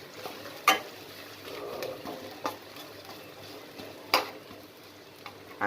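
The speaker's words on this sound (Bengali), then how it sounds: "এই একটা পেঁয়াজ আপনি কুচি করে তেলের মধ্যে ছেড়ে দিবেন। পেঁয়াজটা একটু হালকা ভেজে আসলে" Chopped onion fries lightly in oil, a faint low sizzle under a few sharp clinks of a utensil against the pan, spaced irregularly and heard close.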